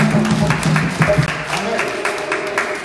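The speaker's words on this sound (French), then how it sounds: "Est-ce qu'on peut l'acclamer?" A congregation applauds during a church service after a healing testimony, a loud, steady wash of clapping from a crowd that holds for the whole stretch, with voices mixed into the noise.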